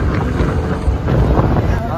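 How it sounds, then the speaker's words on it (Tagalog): Strong wind buffets the microphone while riding a motorcycle, a loud, steady rushing roar filling the whole clip with gusty swells and no break. "So kahit malakas yung hangin talaga, habang nagmumotor, eh mararamdaman mo talaga na mainit."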